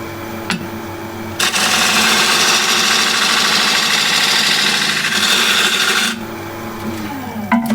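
Wood lathe spinning a bowl while a spindle gouge cuts, a steady loud rasping scrape with motor hum that runs for several seconds before dropping back to a quieter spin.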